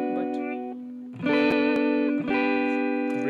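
ESP Snapper Raiden eight-string electric guitar through a Marshall amp tone, distorted sustained chords ringing out with reverb, a held chord followed by two fresh strums, up close and alone.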